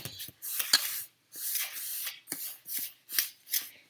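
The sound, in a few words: stirring cinnamon bread batter with a fork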